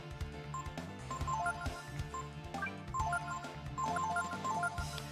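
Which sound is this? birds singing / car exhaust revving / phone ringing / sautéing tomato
phone ringing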